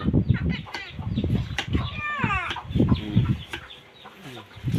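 Busy ducks quacking and squawking throughout, with rapid overlapping calls and occasional flapping, close by and fairly loud.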